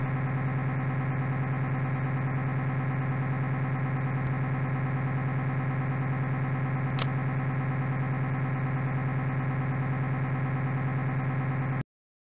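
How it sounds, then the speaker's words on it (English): A submarine engine runs in a submarine simulator video game, giving a steady, even low hum with a constant droning tone and no breaks, close and unchanging throughout. "Setting engine to quarter power, Captain. Setting engine to half power, Captain."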